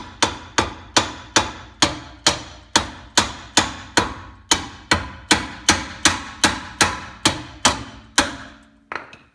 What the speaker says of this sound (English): just take the mallet, give it a very light, gentle tap, just to tap it in place.